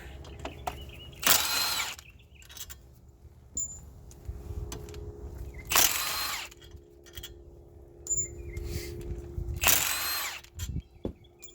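An impact wrench removing the wheel hub bolts on a 1996-2020 Dodge Caravan or Chrysler Town & Country fires in three short, loud bursts spaced a few seconds apart, with faint clinks and handling noises in the quiet gaps.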